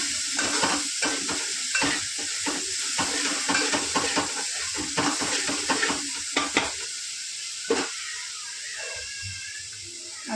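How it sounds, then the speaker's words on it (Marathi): Masala paste for a fish curry fries in a pan, sizzling and hissing steadily while a spoon scrapes and stirs in irregular strokes that clack against the metal, close up with no talking. "मस्त तळून घेऊयात पेस्ट"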